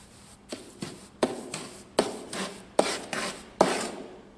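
Steel bricklaying trowel slicing and scraping through a bed of mortar, six or seven short rasping strokes in an even rhythm, close and clear with no talk.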